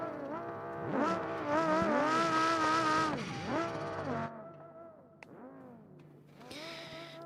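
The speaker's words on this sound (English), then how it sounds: "Warming up his tyres" Formula Three race car in the Hirochi Grand Prix racing game warming up its tyres: a loud, high-pitched engine revs and weaves, its pitch sweeping up and down repeatedly before easing off and rising again near the end.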